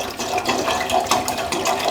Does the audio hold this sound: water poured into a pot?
yes